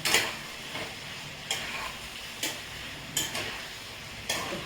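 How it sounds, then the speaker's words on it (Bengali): Turmeric and coriander powder stirred into a sizzling vegetable chicken curry, with a spoon scraping the pan in regular strokes about once a second over a steady background fry; no voices. "ভালো করে এটা নাড়িয়ে নিচ্ছি।"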